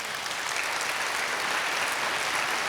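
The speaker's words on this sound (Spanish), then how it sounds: "Den un aplauso al Señor por eso." A church congregation claps in a sustained, even burst of applause, steady and moderately loud throughout.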